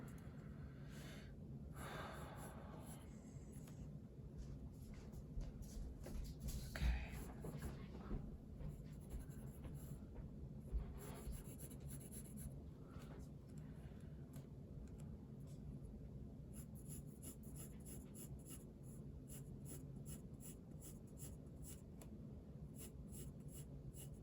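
A pencil draws lines on paper while copying a Delacroix horse study. Quiet, repeated scratchy strokes come in bursts, with soft nearby breathing and occasional sniffs between them.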